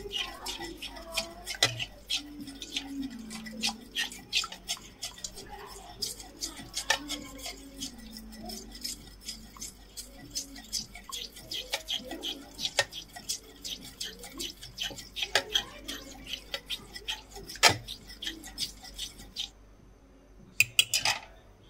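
An egg is mixed in a bowl, a quick run of light utensil clicks and taps against the bowl with irregular rhythm, close and fairly quiet, with faint voices in the background.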